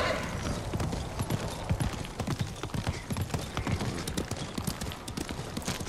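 Horse hooves clip-clop in the video game Ghost of Tsushima, a quick steady rhythm of hoofbeats at moderate distance with faint mechanical background sounds, no talking.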